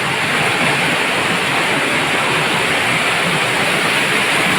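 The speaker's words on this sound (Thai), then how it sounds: "สวยไหมน้ำตกจริง" A waterfall in Saraburi roars in a continuous, loud, even rush of falling water with no pauses.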